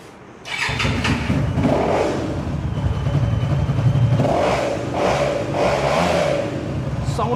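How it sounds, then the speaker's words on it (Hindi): A Zongshen 300cc cruiser motorcycle starts with a sudden low engine roar, then idles loudly and steadily up close, with several throttle blips rising and falling over the following seconds. "अहमद साहब साउंड सुनाएं, उसके बाद हमें इसकी प्राइस बताएं।"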